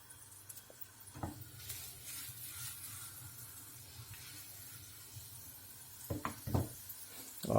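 Garlic sizzles softly in a frying pan, a faint steady hiss with occasional stirring scrapes and a few louder clatters toward the end, no voices.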